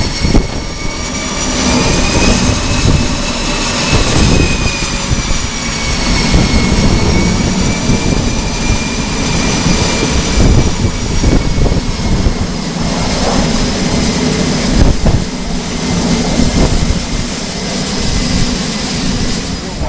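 Jet engines roar steadily on the flight deck of the aircraft carrier USS Truman, a loud, continuous whine and rumble with a high tone gliding slowly throughout, and no one talking.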